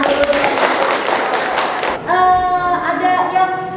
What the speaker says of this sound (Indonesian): Ini beri tepuk tangan dulu